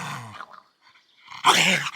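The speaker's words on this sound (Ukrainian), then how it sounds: "уйми свою собаку" A dog growls and grumbles, its low rumbling vocalizations coming in two short bursts, the second louder and rougher.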